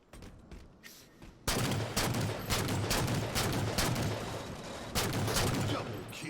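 Rapid bursts of gunfire in Halo 4 on the Master Chief Collection, loud crackling volleys and repeated shots starting abruptly after a quieter moment and continuing in clusters, with a player's voice talking over parts of it.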